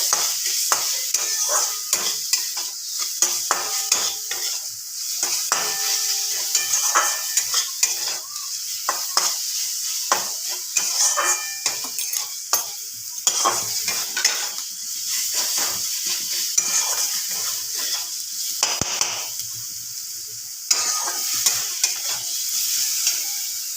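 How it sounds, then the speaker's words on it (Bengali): Ginger fries in hot oil in a pan with a loud, steady sizzle that runs throughout, broken by frequent scraping and clinking strokes of a spatula stirring it, while preparing a katla fish curry. "আদার কাঁচা গন্ধটা যাওয়ার আগে পর্যন্ত আমাকে সুন্দরভাবে ভেজে নিতে হবে।"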